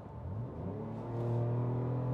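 A 2025 Ford Ranger Raptor V6 exhaust in normal mode gives a steady, close, low rumbling drone that swells slightly louder partway through, with no talking.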